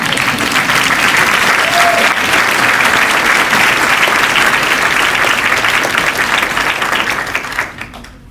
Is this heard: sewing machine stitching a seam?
no